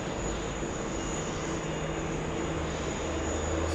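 A Rex aircraft rolling for takeoff on runway 16 right, heard as a steady, broad engine and propeller roar that holds at an even level throughout, with no talk over it.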